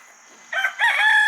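A backyard rooster called Crowbar crows once, nearby and loud, the call rising abruptly after a quiet start and holding strong to the end.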